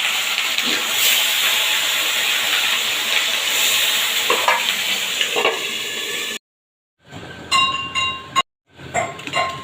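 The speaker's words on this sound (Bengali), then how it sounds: "এবার একে একে সব মাছের পিসগুলো আমি ভেজে তুলে নেব অবশ্যই ঢাকা চাপা দিয়ে ভাজবেন কেননা ফাটে খুব" Fish pieces fry in hot oil in a covered pan, making a loud, steady sizzle with occasional pops for several seconds, then a sudden drop followed by metallic clinks and short bursts of frying.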